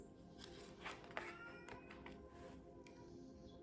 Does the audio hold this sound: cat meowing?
yes